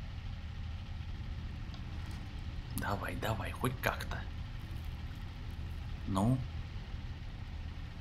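Truck engine idling in the snowy off-road game SnowRunner, a low, steady rumble running quietly throughout while someone talks over it in short bursts.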